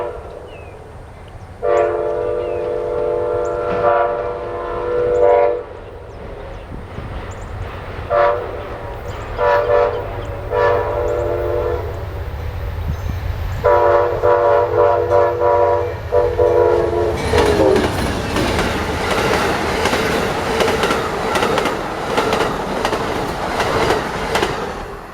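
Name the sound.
Amtrak Silver Star passenger train passing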